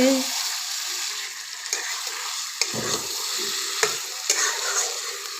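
Chicken coated in masala is stir-fried in a pan on an electric heater, giving a close, steady sizzle broken by rhythmic spatula scrapes and taps against the pan.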